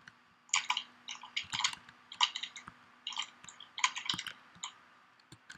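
Rapid clicking from a loud computer keyboard during a fighting-game session, with steady bursts of close, sharp keystrokes running throughout and no voices.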